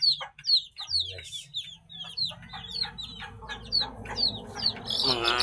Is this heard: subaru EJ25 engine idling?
no